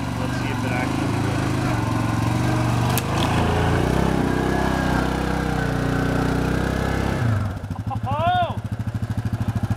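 Yamaha Grizzly 700 ATV engine droning steadily close by in four-wheel drive through mud, a loud continuous mechanical hum that shifts pitch near the end, with people talking over it.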